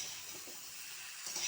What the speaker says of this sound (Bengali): এইরকম করে একটু পেঁয়াজ কলিগুলো ভাজতে হবে।